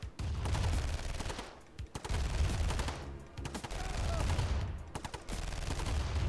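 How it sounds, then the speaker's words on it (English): Machine gun fire in the Command and Conquer: Covert Operations GDI campaign, dense overlapping bursts of rattling shots with brief lulls, moderately quiet and set against battle noise. "Two machine gunners are able to take it down."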